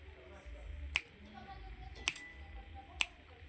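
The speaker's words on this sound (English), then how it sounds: "let me just snap my fingers next to it" Three crisp finger snaps right beside a Samsung Galaxy phone microphone, spaced about a second apart, close and sharp over a quiet background hum.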